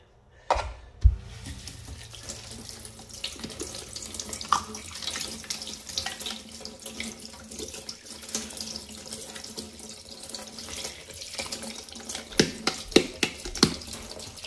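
Tap water runs steadily into a sink while a Ninja portable blender is rinsed, with small clinks and splashes from the handling, and no voices.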